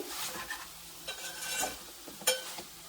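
Chicken pieces frying in a pan give a quiet sizzle broken by stirring and scraping of a utensil, with a few sharper clinks against the pan.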